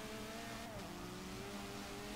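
A race car engine in a semi-pro sim racing event drones steadily at low volume, with a brief dip in pitch around a gear shift before the tone climbs again.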